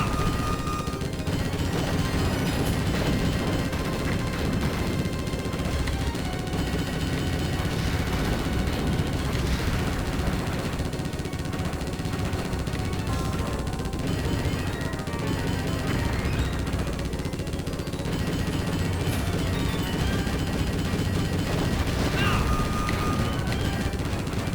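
Dense, relentless gunfire from mounted gunners in Konami's 1996 arcade rail shooter Operation Thunder Hurricane: rapid automatic bursts and blasts layered into a loud, continuous barrage with no let-up.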